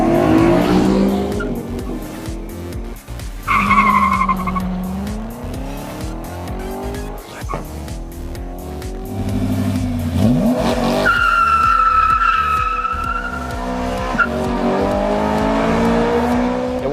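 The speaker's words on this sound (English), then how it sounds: "testing the new C7 Corvette versus the BMW M3 Lime Rock Edition" A C7 Corvette with a big V8 and a BMW M3 Lime Rock Edition launch and accelerate hard on a test track, engines roaring and rising through gears with tire squeal, loud and close throughout.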